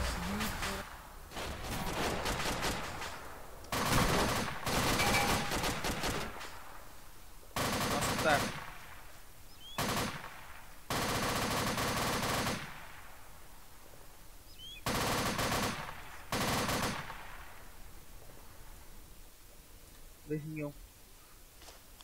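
Automatic weapon fire in the combat game Arma 2 Operation Arrowhead, several loud bursts of rapid shots separated by pauses, with players talking over and between the bursts.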